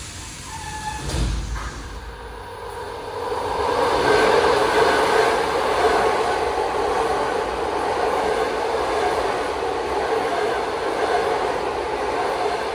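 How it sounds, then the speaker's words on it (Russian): A long-distance suburban electric train on the Kyiv line in Moscow runs through without stopping, starting with a clunk and then building into a loud, sustained rumble and rail roar that continues steadily to the end. "Смотрите, вот киевское направление, дальняя электричка пошла. Она без остановки едет"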